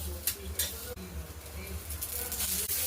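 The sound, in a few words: tomatoes and green chillies roasting with oil in a pan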